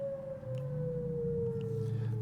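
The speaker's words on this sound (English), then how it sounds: "And the siren's going off because it's noon." A civil defense siren sounds at noon, a single steady wailing tone that sweeps slowly downward and stays loud and continuous from start to finish.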